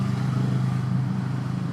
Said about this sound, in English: But that's a quiet motorcycle.